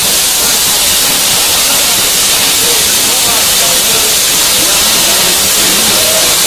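Steam from the LMS Princess Royal class locomotive 6201 Princess Elizabeth hauling the Northern Belle gives a loud, continuous broadband hiss that stays steady throughout with no clear breaks.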